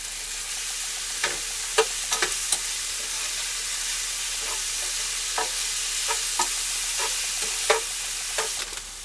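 Garlic sizzles steadily in a hot frying pan, a continuous bright hiss broken by scattered scraping taps as a utensil stirs it, close and unaccompanied by speech.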